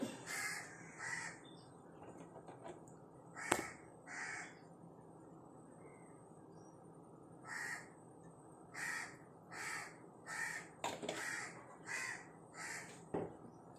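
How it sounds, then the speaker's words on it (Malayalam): Crows cawing in short repeated bursts outdoors, some calls single and others in quick runs, moderately distant and fairly faint against a quiet background, with no talk. "കാക്കയ്ക്കൊക്കെ കരയാവും"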